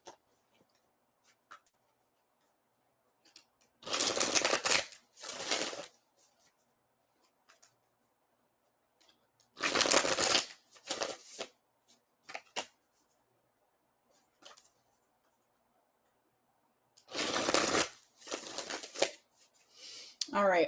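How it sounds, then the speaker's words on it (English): A deck of tarot cards is shuffled in three separate bursts of quick, crisp riffling and flicking, spaced several seconds apart with quiet gaps between. "Let me shuffle this real quick."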